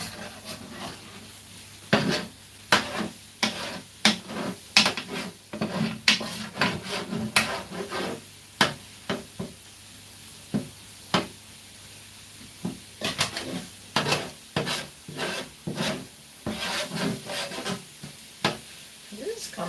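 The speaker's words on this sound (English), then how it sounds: "Scraping the bottom." A utensil scrapes and knocks against the bottom of a pan on a stove while breakfast cooks, a series of close, sharp scraping strokes in irregular bursts over a low steady background.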